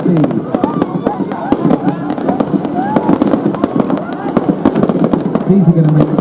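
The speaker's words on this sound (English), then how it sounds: "Now some massive fireworks of all colours shooting from the helicopter" Multicoloured fireworks fired from a helicopter over the sea at a night airshow crackle and pop in rapid, dense bursts, loud and close, with a voice talking over them throughout.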